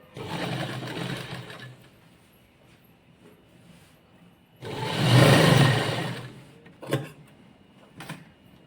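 A sewing machine runs in two bursts, a shorter one and then a louder, longer one, stitching down a fabric edge folded inward on a child's skirt, with brief mechanical clicks between bursts and no talking.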